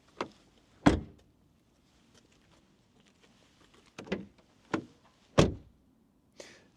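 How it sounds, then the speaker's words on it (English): Several BMW X3 M50 and Mercedes-AMG GLC 43 car doors thump shut one after another at irregular intervals, solid and close, with quiet gaps between each closing. "And then as for the door closing sounds"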